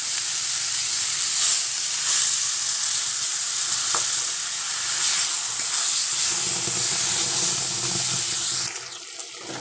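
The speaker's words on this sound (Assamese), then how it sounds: "এতিয়া মই দিম ইয়াতে মছলাখিনি" Masala spices sizzle in hot oil with raw jackfruit and prawns, a steady, loud hiss with light stirring scrapes that cuts off near the end.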